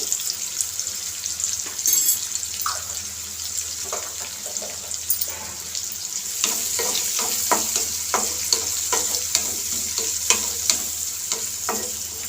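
Onions half-frying in a pan for an okra curry, a steady sizzle with occasional stirring clatter and scraping, plus brief tap-water splashes, fairly close and without talk.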